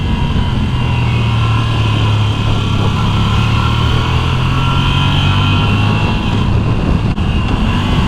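Steady, loud drone of a 2024 Moto Guzzi V85TT Strada motorcycle engine while riding, a constant low hum mixed with wind rush, unbroken for the whole stretch with no talk.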